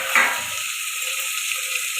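Tomatoes frying in a pan with onion, garlic and fenugreek, a steady close sizzle after a brief clatter at the start, with no voices.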